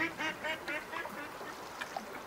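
Ducks quack in a short run of quick, nasal calls in the hunting game Way of the Hunter, moderately close over a quiet outdoor ambience.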